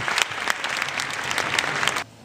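Steady, full applause from a speech tournament audience for the impromptu champion, dense clapping that holds for about two seconds and then cuts off abruptly.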